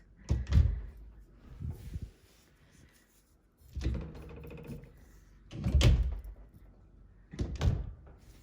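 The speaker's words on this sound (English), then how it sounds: "let's shut the cabinet doors" Four separate wooden thunks of cabinet doors being closed, spaced a second or two apart, with quiet rattling between them and no talking.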